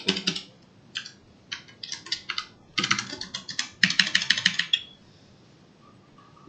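Typing on a computer keyboard while writing a while loop, with close, clattering key clicks in quick irregular bursts broken by short pauses, with no voice over them.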